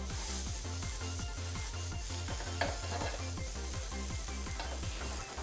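A pan of mushrooms, onions and carrots frying, with a steady close sizzle and rhythmic stirring scrapes, heard alone without talk.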